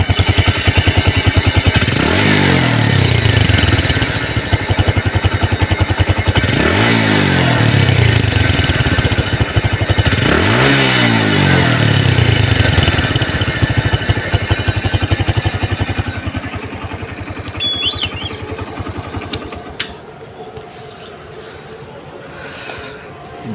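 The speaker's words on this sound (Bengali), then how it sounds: "সেলফ স্টার্ট, গাড়ি কিন্তু স্টার্ট হয়ে গেছে।" A used motorcycle in showroom condition, just self-started, revs three times in rising, falling sweeps over a steady idling chug, then settles to a quieter idle near the end, loud and close with no talk.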